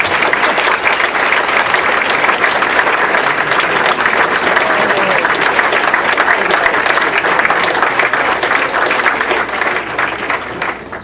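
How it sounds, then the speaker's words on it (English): An audience gives volunteers a long, loud round of applause, thick continuous clapping from many hands that holds steady for over ten seconds and tapers slightly at the end. "give a nice round of applause to the volunteers"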